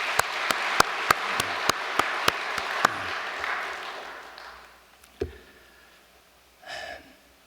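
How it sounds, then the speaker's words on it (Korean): Applause at a church gathering marking a women's federation's 30th anniversary: a burst of clapping with sharp close claps fades out after about four seconds, followed by a thump and a brief soft murmur. "박수를 한번 보내 올리겠습니다."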